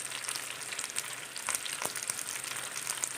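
Chicken frying in a pan for homemade chicken and vegetable macaroni produces a faint, continuous sizzle with soft crackles and small spatters, heard without any voices.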